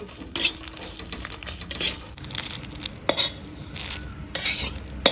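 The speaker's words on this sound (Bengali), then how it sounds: "কুমড়োর দানাগুলো শুকনো খোলায় ভেজে নিচ্ছি" Pumpkin seeds are dry-roasted in a pan and stirred, giving intermittent scraping and rattling bursts of a utensil against metal, fairly close and without talk.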